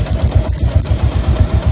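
Motorcycle engine running close by on a narrow road near Cabuyao, a steady pulsing low throb that continues without pause.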